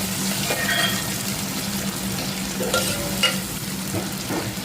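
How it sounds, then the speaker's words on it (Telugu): Tomato and green chilies cook in a pan, giving a steady close sizzle and frying hiss with occasional scraping stirs throughout. "ఇది టమాటా పచ్చిమిర్చి మగ్గిపోవాలి."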